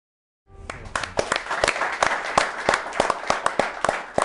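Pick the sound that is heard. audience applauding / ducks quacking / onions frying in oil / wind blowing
audience applauding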